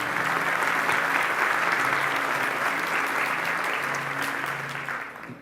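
Church congregation applauding steadily, a dense sustained wash of clapping that fades toward the end, with a faint low musical hum underneath.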